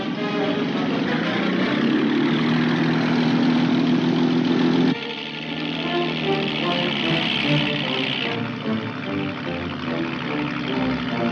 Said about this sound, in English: There's a boat following us.